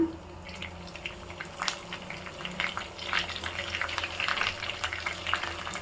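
Mutton liver fries in a pan with mint and coriander, giving a continuous soft sizzle and crackle with small popping bursts that grow a little busier toward the end.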